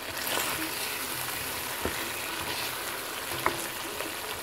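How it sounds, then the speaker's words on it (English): Guyanese-style curry fish with grated cucumber frying in a pot, a steady hiss and sizzle with a few faint clinks from stirring, no voices. "Grate the cucumber in the curry and you mix it and fry it up"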